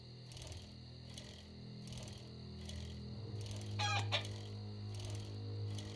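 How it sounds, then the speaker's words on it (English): A chicken in the video game 7 Days to Die clucks and crows over a constant engine hum, with a rhythmic repeating mechanical pattern running throughout. "Did I run over the chicken?"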